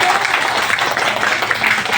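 An audience applauds for Jollibee with dense, continuous clapping filling the room at close range, with no pause for the whole moment.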